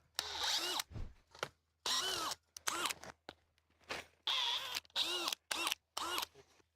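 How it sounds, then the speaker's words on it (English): A cordless electric drill whirs in repeated short bursts, spinning up and stopping about eight times in a steady on-off rhythm, close and fairly loud with silent gaps between bursts. "spin my drill to get all the way up"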